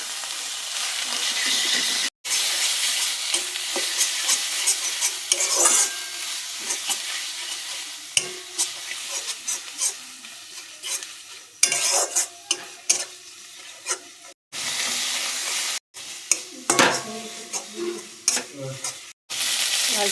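A spice mix of turmeric and mango kasundi with salt fries in oil, giving a steady close sizzle broken by frequent scraping stirs and brief pauses, with no talk.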